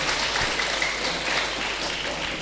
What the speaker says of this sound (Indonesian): Tepuk tangan untuk beliau ganteng.